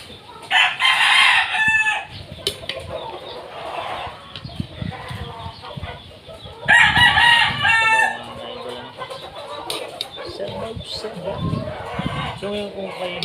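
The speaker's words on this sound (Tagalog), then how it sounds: "maraming tunog ng manok or nag-iingay ng mga manok, ay marami po talagang manok po dito" Many chickens at a rural Filipino home, with roosters crowing loudly nearby twice and hens clucking in between, mixed with background chatter and household noise.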